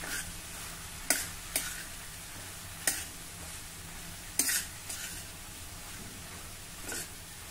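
Chopped ridge gourd with salt is mixed in a pan, with a few sharp spatula taps and scrapes standing out over a steady low sizzle. The strokes are close and sparse.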